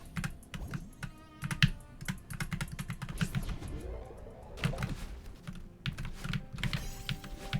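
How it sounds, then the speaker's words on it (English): Computer keyboard keys clatter in dense, irregular bursts as many are pressed and mashed at once, a close, busy typing patter with no clear rhythm running throughout. "How many keys could I press at once,"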